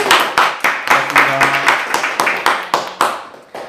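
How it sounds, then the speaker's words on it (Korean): Applause at a business interview session, a small group clapping in irregular loud bursts with distinct sharp claps, while a voice briefly speaks underneath. "박수 부탁드립니다."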